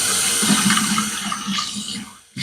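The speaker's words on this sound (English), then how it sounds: "I'll add some more water to this, and it would absolutely blow up" Water runs steadily while being worked into a charcoal shaving soap lather with a 1962 Gillette razor nearby, a continuous close hiss and splash that cuts off briefly near the end before resuming.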